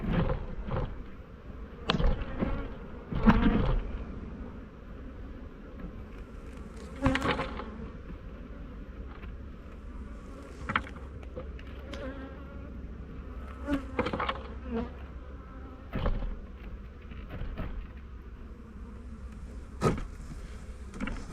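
Dense, steady buzzing of many honeybees close by at an open hive during an inspection, with occasional louder passes and a few soft knocks and clatters.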